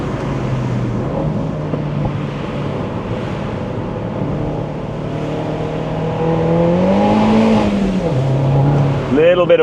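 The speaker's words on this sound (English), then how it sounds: "Little bit of wheel spin coming out of there." A Mini Roadster JCW accelerates hard with some wheel spin, its engine droning steadily close by, then revving up in a rising, falling sweep near the end, with a voice talking over it.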